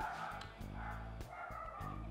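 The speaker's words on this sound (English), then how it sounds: "Two dogs barking." Two dogs bark in the background during an outdoor cookout on a Weber grill, with short repeated woofs that overlap and stay fairly steady in loudness throughout.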